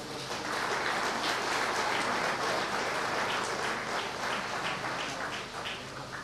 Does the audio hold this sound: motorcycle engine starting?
no